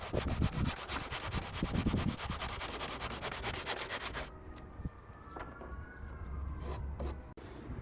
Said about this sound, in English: The best option I found turned out to be pretty simple, just an old rusty handsaw.